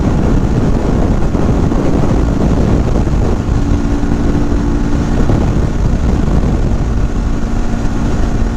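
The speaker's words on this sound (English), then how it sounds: "we're just hanging out in the windstorm here" Strong windstorm gusting across open ground with dust devils nearby, a loud steady roar and buffeting rumble on the microphone that holds for the whole stretch without letting up.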